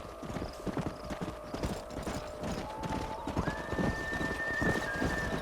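Horses clip-clopping in the video game Red Dead Redemption, a busy run of hoof beats at a steady gait with an occasional whinny, plus a faint tonal hum.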